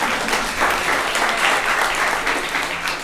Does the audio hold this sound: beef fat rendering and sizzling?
no